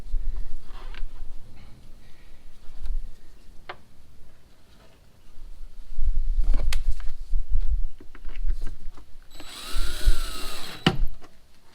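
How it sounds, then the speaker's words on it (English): A power drill driving bolts into plastic vehicle door trim, with short whirring bursts separated by clicks and handling noises, close by, ending in a louder high-pitched spin near the end. "Now we can go ahead and bolt them up."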